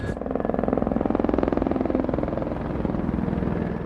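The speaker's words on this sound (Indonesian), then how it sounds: "mereka menuju helikopter yang disediakan hotel" A helicopter's rotor thumps in a rapid, steady rhythm over a loud engine drone, close and continuous.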